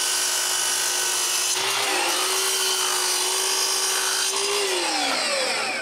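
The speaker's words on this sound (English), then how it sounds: "I can mark and cut a piece of plexiglas for the back." Power tool cutting a sheet of plexiglas for the back of a woodworking project, a loud continuous high-pitched whine whose pitch dips briefly as the blade loads, close up.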